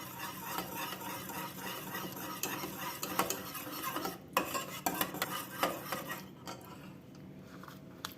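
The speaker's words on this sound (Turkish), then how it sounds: "Bunu şimdi güzelce bir karıştıralım" Food is stirred in a pot: a quiet run of scraping and rubbing strokes from a utensil against the pot's sides and base, with a faint sizzle underneath. Near the end the stirring eases off to a softer stretch.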